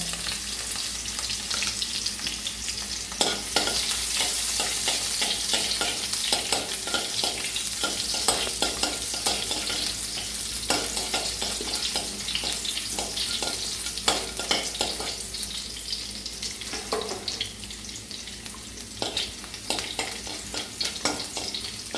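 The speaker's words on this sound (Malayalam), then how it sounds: "ചെറിയ ഉള്ളി, സവാള അരിഞ്ഞതെല്ലാം കൂടെ ഇതിനകത്ത് വഴറ്റുക" Chopped shallots and onions sauté with mustard seeds for a Kerala beef curry, a dense, continuous frying crackle broken by repeated sharp scrapes and pops of stirring, close and sustained throughout.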